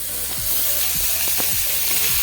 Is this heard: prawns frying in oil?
yes